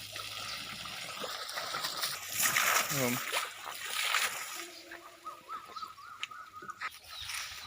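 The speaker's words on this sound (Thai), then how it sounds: "นี่ผมเล่นน้ำ" Water splashes and sloshes as someone plays in it, broadband bursts rising and falling over steady background noise, with voices talking throughout.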